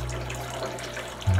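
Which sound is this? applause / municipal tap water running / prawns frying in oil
municipal tap water running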